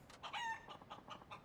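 An alarm in Yakuza 5 plays a rooster's cock-a-doodle-doo crow, a single clear crow followed by a few clucking calls, moderately close and heard alone without talk.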